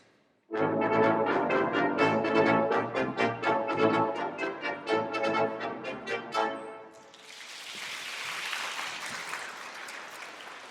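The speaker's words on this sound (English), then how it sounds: "the brass family sounds like this" A brass ensemble plays a bold, punchy passage of rhythmic chords, then applause rises and fills the remaining seconds.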